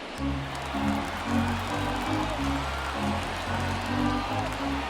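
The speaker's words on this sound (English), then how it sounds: "These fans, they are ready to cheer about something." A baseball stadium crowd in MLB The Show 24 keeps up a continuous roar and cheer beneath a play-by-play announcer talking.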